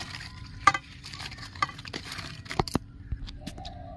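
Taro greens are tipped into a pan with a little water and stirred, giving soft sizzling, scraping and a few sharp clinks of a utensil against the pan, fairly quiet and close.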